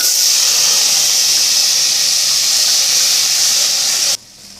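Boiled chickpeas and curry leaves hit a hot pan for white channa sundal, giving a loud, steady steamy hiss that holds for about four seconds, then cuts off abruptly to near quiet.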